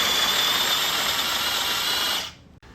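An AGARO AG Elite rechargeable mini electric chopper runs on thick-cut carrot pieces, a steady close motor whine with a high hum that cuts off near the end, followed by a single faint click.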